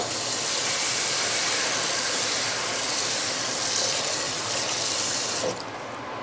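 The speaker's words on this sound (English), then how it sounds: "So I'm going to put water in the pot and let that water soak with the heat" Water pours steadily into a hot cooking pot on a stove after fajitas, a loud continuous rushing hiss and splash lasting about five seconds before dropping to a quieter simmer.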